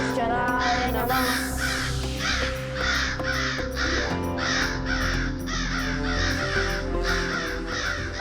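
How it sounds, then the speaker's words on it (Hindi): Several crows caw repeatedly in a loud, rhythmic series over a sustained musical drone and chant-like background, the harsh calls close and prominent throughout. "काक तो आ गए,"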